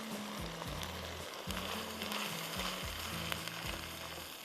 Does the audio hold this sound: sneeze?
no